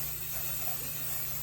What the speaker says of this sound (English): I use lace tint, and I basically just spray